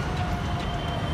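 Low rumble of a metro train in a station, a brief steady rail drone heard up close without speech.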